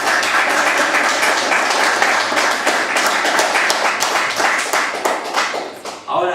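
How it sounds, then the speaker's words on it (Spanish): A church congregation claps steadily during a sermon, dense continuous applause filling the space for about six seconds before tapering off near the end. "Denle un aplauso al Señor."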